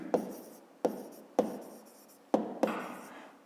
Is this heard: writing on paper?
yes